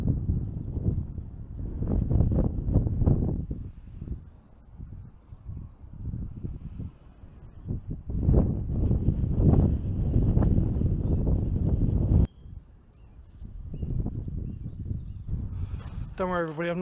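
Wind gusts across open ground at an old WW2 air raid shelter site, a heavy low buffeting roar that swells and drops in waves against the microphone, with a person speaking in between.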